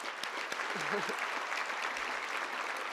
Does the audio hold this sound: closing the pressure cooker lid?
no